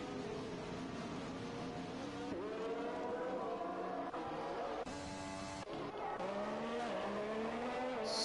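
F1 cars in the racing game F1 2021 at Bahrain scream past with high, rising and falling engine whines and gear shifts, several cars overlapping at close range without any talk.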